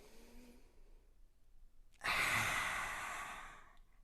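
A forceful lion's breath exhale in a yoga class, a single long, loud breathy rush with the mouth open that begins abruptly and fades slowly, with no talking over it.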